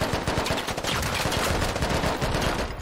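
Dense, continuous automatic gunfire fills a firefight in the Squad Ops video game, rapid overlapping shots cracking without pause at steady, close, loud volume.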